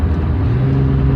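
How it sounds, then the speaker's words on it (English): Truck engine acting up, a loud, close rough rumble with low droning tones held steady for a moment, no talk over it. "My truck just kind of freaked out."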